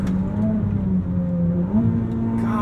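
Ferrari SF90 Spider hybrid supercar with its gearbox in auto mode, engine droning steadily with rising and falling pitch through aggressive downshifts, heard from inside the cabin with no talk.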